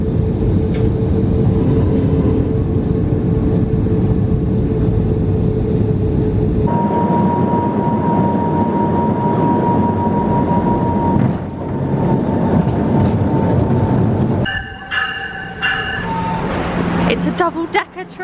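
A passenger train carries riders toward New York with a steady, loud rumble and hum that shifts in tone partway through. Brief voices and clatter come near the end.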